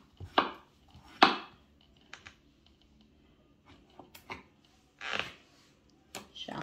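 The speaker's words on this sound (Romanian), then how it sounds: "Și așa le luăm pe rând și le tăiem așa cum putem" A knife cuts cantaloupe melon into small cubes, giving a handful of sparse, irregular chops on a board, fairly quiet with gaps of near silence between the sharper strokes.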